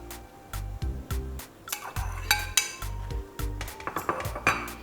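Sausage is tossed into a pan of oil-free vegetable fried rice, with repeated close clatters and scrapes of a metal utensil against the pan in an uneven rhythm, no voice over them.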